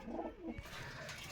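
Pakistani pigeons in a loft giving a brief low coo, soft and close, over quiet background noise, with no talk.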